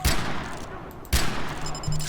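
Gunfire in Far Cry 4, two sharp loud shots about a second apart over dense game background noise.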